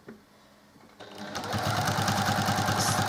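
A sewing machine stitching a quilt block, starting quietly and then running into a steady, loud, fast rhythmic whir of needle strokes, with no talk over it.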